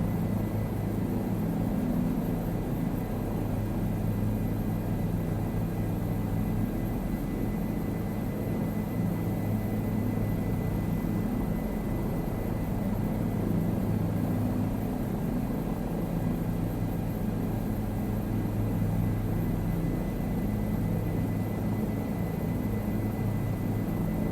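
Steady, loud rotor and engine drone of a helicopter flying over Easter Island on approach to the airport, continuous and unchanging throughout with no voices.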